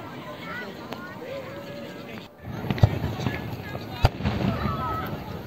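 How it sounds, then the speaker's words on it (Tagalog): Distant fireworks in Japan pop and thud faintly in a few scattered bursts, with a sharper crack near the end, over a steady outdoor hum and crowd murmur. "Hindi gaano kaganda yung fireworks sila kasi nasa malayo kami."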